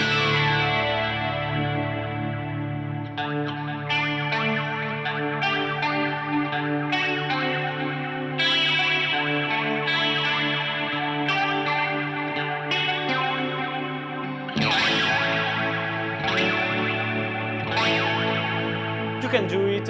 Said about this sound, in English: The Nano Mistress has a more pristine type of sound